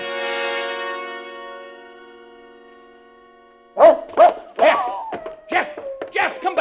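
A dog named Jeff barks in a 1949 radio drama, a run of sharp close barks following a held tone that fades out.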